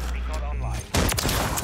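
A sniper shot in a video game cracks out sharply midway, followed by a dense burst of noisy reverberation, with a low engine-like drone and excited voices beforehand.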